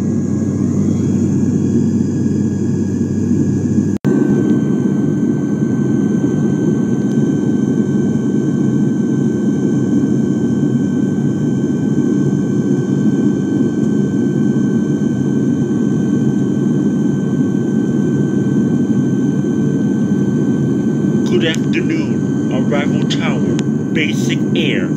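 Airliner engines drone loudly and steadily during final descent in a flight simulator game, a constant jet roar with a steady high whine, and a brief sharp click early on; faint voices may sit under the engine noise.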